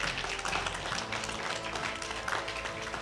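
An audience applauds at a women's day awards ceremony, a soft, steady wash of many hands clapping from across the hall.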